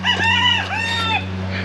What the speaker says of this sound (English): Bringing those down to the chickens.